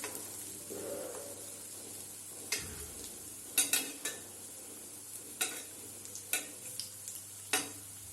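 Bottle gourd (lauki) koftas fry in hot oil with a steady close sizzle, while a spoon stirs them gently, giving several soft scrapes and light clinks against the pan.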